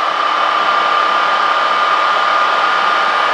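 A nail dust extractor on its first setting gives a loud, steady high-pitched whirring drone without pause, like a small fan motor blowing hard, close by and unchanging.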